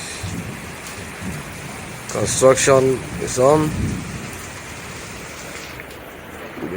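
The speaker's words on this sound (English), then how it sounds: "You can see rains in the SCM construction site." Rain falling at a church construction site gives a steady, moderately loud hiss throughout, while someone speaks briefly over it in the middle.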